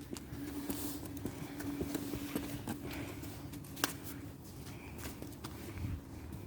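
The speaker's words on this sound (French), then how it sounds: "écoute le cheval" Horse hooves clip-clop at a steady walking pace along a forest trail, soft and mid-distance under a low background hum, with one sharper knock near the end.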